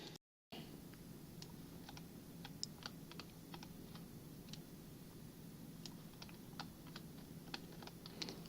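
Quiet, close computer keyboard typing: scattered individual keystrokes and short clusters of clicks at an uneven pace over a low steady room hum.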